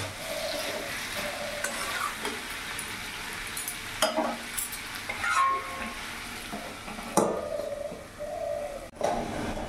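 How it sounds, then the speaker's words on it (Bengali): Pumpkin pieces for a Bengali pumpkin chhechki are stirred in a frying pan, giving a steady close sizzle broken by repeated scraping strokes of the spoon, while pigeons coo softly in the background. "আর একবার আমি নাড়াচাড়া করে ঢাকা দিয়ে দেবো।"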